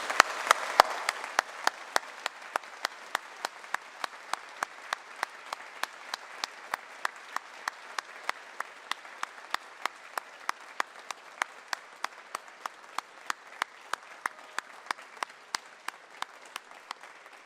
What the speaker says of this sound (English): could I ask my colleagues, the staff of Unitec, to stand and applaud our graduates for 2015